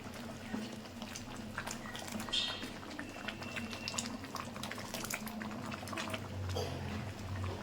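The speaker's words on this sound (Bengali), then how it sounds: "তো ডালটা আমার ফুটে গেছে, এই দেখো।" Lentil dal boiling in a pot with spinach, a steady low bubbling simmer with small pops and plops, close and fairly quiet throughout.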